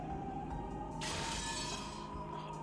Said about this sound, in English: Oh! Glass break!